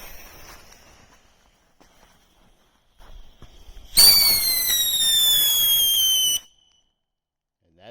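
A Sassy Sally mini firework fountain, built for more noise than light, goes off outdoors with a sudden loud crackling, whistling burst that holds for about two seconds before stopping abruptly, after some quiet handling sounds.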